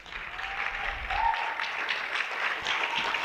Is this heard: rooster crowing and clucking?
no